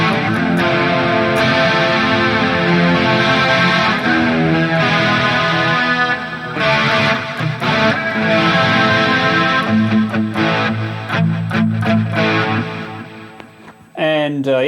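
Crunchy overdriven electric guitar tone from a Hotone Ampero amp modeler, strummed chords and riffs played continuously and loud, thinning to sparser picked notes near the end.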